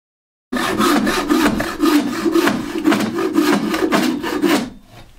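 A frame saw cuts through wood by hand in steady back-and-forth strokes, about a dozen rhythmic rasping passes heard up close with no talk.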